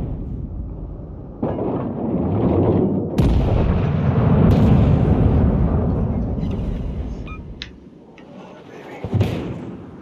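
Naval guns of battleships, a King George V and a Colorado, thunder in World of Warships Legends: three heavy booming salvos, each rolling out into a long rumble, loud and close.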